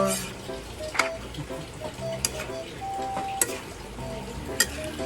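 Chinese cabbage and mixed vegetables stirred in a frying pan, soft scraping and light sizzle with a few sharp utensil clicks against the pan, close and steady.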